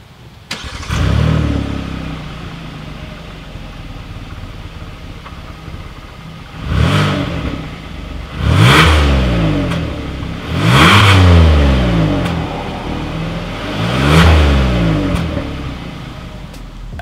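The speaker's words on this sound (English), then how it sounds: "here is that exhaust clip." Exhaust of a 2020 Hyundai Palisade SUV, started and then revved four times in succession, each loud rising surge falling back to a steady idle between.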